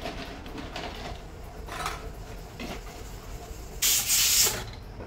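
Water sprayed in a home, a hissing burst of spray near the end after quieter rustling and handling noises.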